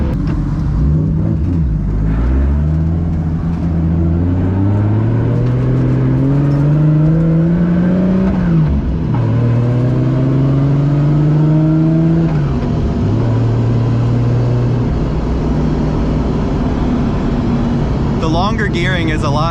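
A Nissan 240 drives and accelerates, its engine note climbing through the gears in repeated rising sweeps broken by brief dips at each shift, loud and close throughout.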